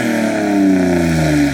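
A BMW G82 M4 fitted with an upgraded Valvetronic exhaust, its engine held at a loud, steady rev with a slight sweeping drop in pitch, close up and alone with no talking.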